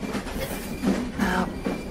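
A train rumbles along the rails with steady clattering wheels and occasional squeals, heard from inside a railway carriage.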